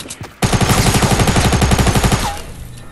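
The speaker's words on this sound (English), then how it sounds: "I'm being shot in the back while someone is ramping on top of me." Rapid automatic gunfire from Fortnite Battle Royale played on a phone: a sustained burst of evenly spaced shots for about two seconds, loud and close, then tailing off.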